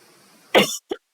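A single person's cough bursts out loud and close against a quiet room, followed by a short softer throat sound.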